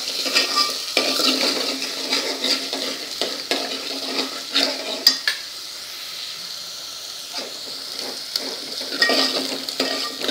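Onions sizzle steadily in a hot pan while a utensil scrapes and clatters against it in irregular stirring strokes, close up, frying until light pink for sambar.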